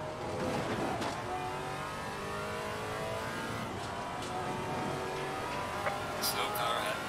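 Maserati MC GT4 race car engine in Assetto Corsa Competizione, droning steadily at high revs through corners with shifting pitch, a brief tire squeal near the end, and a voice talking over it at times.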